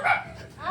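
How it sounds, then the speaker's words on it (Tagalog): Several dogs bark briefly at a home in the Philippines, a quick burst of close barks and yips. "Yan, ang daming aso."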